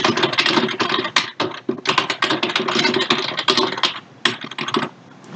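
Typing on a computer keyboard: a steady, close stream of quick key clicks with brief pauses, loud and continuous with no voices over it.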